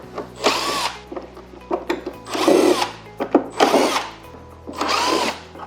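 Power drill spinning out screws from the body of an LG dual stand air conditioner, four close, loud bursts of whirring in a steady rhythm, each a second or so long with a low hum between them.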